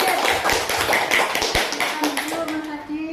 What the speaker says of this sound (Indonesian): tepuk tangan buat Mas Adit